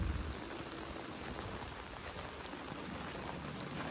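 Steady rain pours onto harvested rice left out to dry, a dense, even hiss of drops that carries on without a break through the whole stretch, with no voices.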